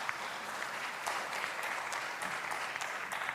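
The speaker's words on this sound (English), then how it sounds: "Let's give a big round of applause to our panelists." Audience applause for the panelists closing a green hydrogen financing forum in Nouakchott, a steady dense clapping from a sizeable crowd, fairly close and even throughout with no talk over it.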